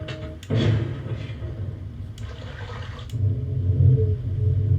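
Ambient air ambience from the Myst game: a steady, rushing wind-like noise with low rumble, swelling slightly louder toward the end, with a few soft thuds and no voices.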